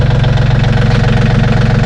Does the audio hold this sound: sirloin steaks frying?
no